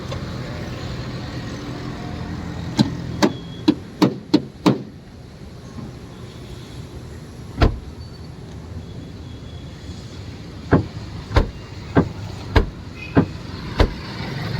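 Hammer striking a car body at a service station, sharp metallic knocks in two bursts of quick repeated blows with a lone strike between, close and loud over a low background hum.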